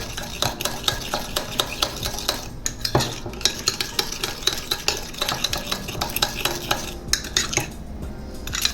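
A utensil stirs sugar into pineapple fried rice in a pan, scraping and clinking against the metal in a busy, steady rhythm with small clatters throughout.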